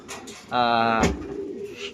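Racing pigeons in a club loft give a close, clear coo, a rich warbling call lasting about half a second, with softer rustling and faint bird sounds around it.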